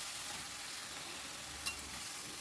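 Spices with salt and turmeric fry over high flame in a pan while being stirred constantly, a faint, even sizzling hiss with a single soft click partway through.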